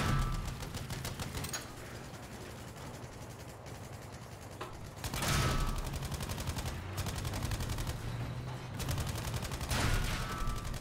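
Tank-mounted machine gun in Battlefield V firing in long rattling bursts, rapid evenly spaced shots with short pauses between volleys, close and dominant with distant battle noise behind.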